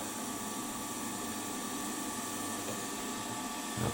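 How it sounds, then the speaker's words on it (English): A 6mm spotting drill cuts into metal on a WM16B milling machine, a steady whirring motor drone with a faint grinding edge, close and unbroken, no voices. "a 6mm spotting drill in there."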